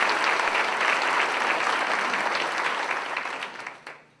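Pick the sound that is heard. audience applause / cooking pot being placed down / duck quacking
audience applause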